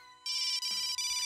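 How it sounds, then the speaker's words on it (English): A loud electronic phone ringtone plays a bright, repeating melodic pattern, close and clear, with no voices. "Obnoxious ass ringtone."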